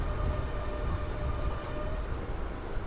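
A passenger train on the Anantapur to KSR Bengaluru line arrives at Prasannayapalli station, a steady low rumble with a faint thin squeal rising near the end.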